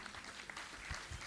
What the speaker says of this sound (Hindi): ये पूरा परिवार तालियां बजा के आप इनका स्वागत करिए।